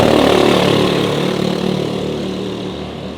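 Go-kart engines with new air filters drone loudly and steadily nearby, a buzzing motor tone that slowly fades slightly.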